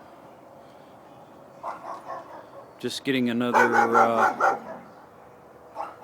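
Neighbours' dogs next door barking on a February night, several sharp woofs and yips rising loudly mid-clip over a steady background hum, with a person speaking briefly nearby.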